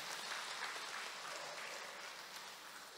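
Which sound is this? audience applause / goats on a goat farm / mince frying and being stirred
audience applause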